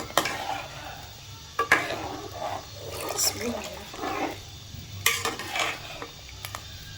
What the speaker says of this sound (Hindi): अब मैं डालती जाऊंगी बिस्मिल्लाह पढ़ के और इसको हिलाती जाऊंगी ताकि गुठलियाँ ना बने।